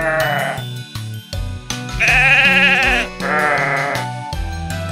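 Cartoon sheep bleat repeatedly at a fair, with a long wavering bleat in the middle over bouncy background music; the calls are loud and close.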